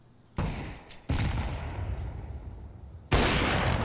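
Pistol fire in Counter-Strike: Global Offensive, with three loud sharp reports spaced across a few seconds, each trailing a rough decaying tail over a low background.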